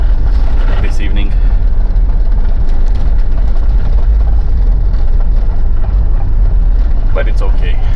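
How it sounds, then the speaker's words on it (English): A Mitsubishi Pajero's engine rumbles loud and constant as it drives over a bumpy road, with cabin and road noise all through and a voice talking over it. "I'm still having fun driving the Pajero."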